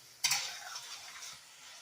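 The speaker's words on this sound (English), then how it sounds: "you guys might be able to hear this sizzling a little bit" A short burst of quiet sizzling rises as beef for stew hits a hot pot over high heat, then fades to faint crackling.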